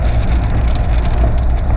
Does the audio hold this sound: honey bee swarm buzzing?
no